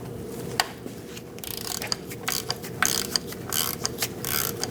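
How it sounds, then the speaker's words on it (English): Ratchet with a 13mm socket loosening the oil drain plug on a 2000-2006 Mini Cooper, a steady run of quick metallic clicks close up with no talking. "Now we're going to go up, and we're going to undo the drain plug."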